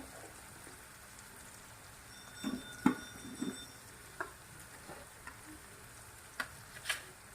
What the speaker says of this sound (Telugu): ఉప్పు వేస్తానండి, ఆనియన్స్ ఫ్రై అవ్వడానికి సరిపడా.